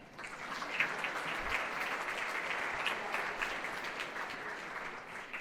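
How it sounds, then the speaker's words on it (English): Audience applause for the choir teacher at a holiday jazz band concert: a steady wash of many hands clapping, moderately distant and even, lasting the whole stretch. "she deserves a round of applause just for that"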